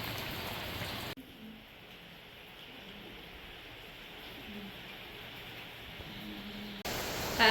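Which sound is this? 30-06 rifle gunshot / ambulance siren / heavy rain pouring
heavy rain pouring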